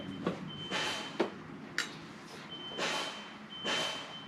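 A vehicle's reversing alarm beeps faintly in the distance in a regular series of short tones, heard in a quiet workshop with occasional clinks of tools.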